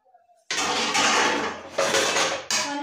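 Dishes, pots and pans being washed in a home kitchen clatter and scrape loudly in several bursts, metal and crockery knocking together close by after a brief quiet start.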